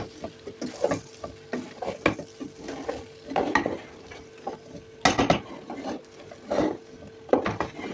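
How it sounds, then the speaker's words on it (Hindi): Vegetables for chicken macaroni are stirred and fried in a large pot, with repeated close scraping and knocking strokes of a spoon over a soft, steady sizzle. "बहुत ज़्यादा भी फ्राई नहीं करना कि सब्ज़ी का कलर डार्क हो जाए।"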